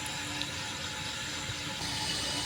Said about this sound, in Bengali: ফ্রাইড রাইস করার জন্য আমি ভাতের জল বসিয়ে দিয়েছি, আর জল ফুটে গেছে।